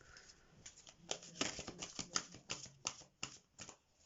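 Tarot cards shuffled by hand at close range, an uneven run of quick crisp riffles and flicks, faint and alone.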